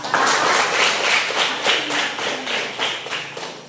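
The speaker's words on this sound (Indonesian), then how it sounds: "tepuk tangan untuk kita semua" A group of children in a classroom claps in a quick, fairly rhythmic pattern for a few seconds, the claps close and bright.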